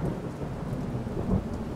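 A violent thunderstorm with steady rain and a low, continuous rumble of thunder, heard alone.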